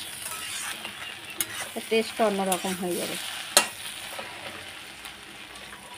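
Fried snake gourd with added sugar is stirred in a sizzling pan, with busy close scraping and clattering of the spoon while someone talks over part of it.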